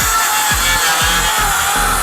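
A hypoid circular saw cuts through wood under its own weight, with a steady loud motor whine broken by short repeating thumps about every half second as the blade bites in, heard up close.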